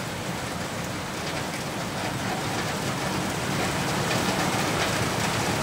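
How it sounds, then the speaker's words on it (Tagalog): Heavy rain pours steadily in a dense, loud hiss that holds constant throughout, with no voices. "Ang lakas ng ulan"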